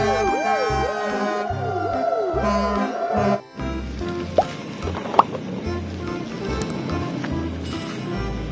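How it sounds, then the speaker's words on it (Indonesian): A toy ambulance plays an electronic wailing siren that rises and falls over a looping beat, followed by other electronic toy tones and a couple of sharp clicks, with no talking. "ada mobil ambulan."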